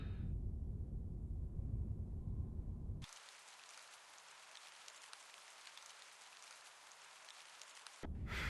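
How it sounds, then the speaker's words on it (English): Rain falling in a video game, a dense steady hiss that cuts in abruptly after a low rumbling stretch and runs alone for about five seconds before the rumble returns. "Why does it always rain in England?"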